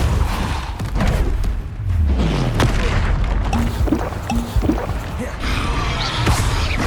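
Confringo and Depulso spell blasts from the Hogwarts Legacy video game, loud booming impacts and crackling bursts in quick succession amid rumbling combat effects, with brief spoken lines mixed in.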